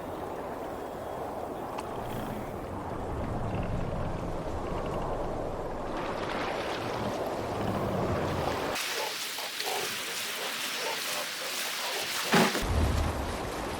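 Viking longship sailing out of a Norse fjord in Assassin's Creed Valhalla: a steady wash of water and wind with rumbling low surges, easing to a quieter, airy stretch near the end, with no one talking.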